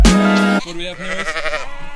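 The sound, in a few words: sheep bleating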